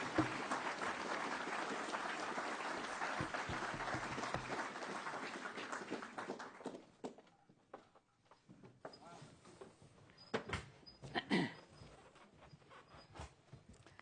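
Lecture-hall audience clapping after a talk on economic policy during a crisis, a steady wash of applause for about seven seconds that thins to scattered claps and rustling, heard faint and at a distance.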